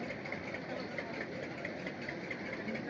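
A fishing trawler's engine drones on at a distance, a continuous low rumble with a faint hum and no clear changes in pitch or rhythm.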